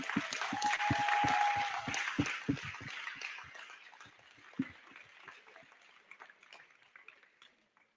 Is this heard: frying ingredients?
no